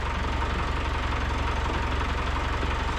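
A Land Rover Discovery 200Tdi diesel engine running just after an engine swap, a steady, close idle with an even knocking rhythm and no talk.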